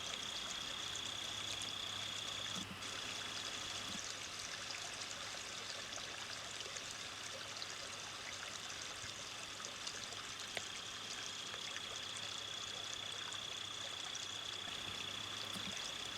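Moore's Run, a polluted urban stream near Sinclair Lane, flows steadily in a continuous outdoor wash of running water, with a faint steady tone in the background and no speech.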